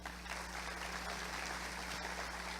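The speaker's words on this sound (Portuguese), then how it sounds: "Vamos aplaudir a Jesus." Church congregation at a Brazilian worship service applauds, a faint, steady patter of many hands heard from a distance over a constant low electrical hum, with no voices over it.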